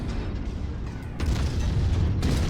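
Mech ammunition explosion in a MechWarrior video game, a deep, roaring boom that swells louder midway and rumbles on continuously, dense and close.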